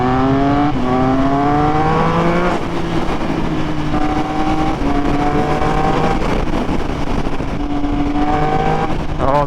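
A loud, deep exhaust note from a Triumph Speed Triple 1200 RS with a Pro-Race GP-R3R exhaust rumbles continuously, rising and falling in pitch through several gear changes as the engine revs up and settles back.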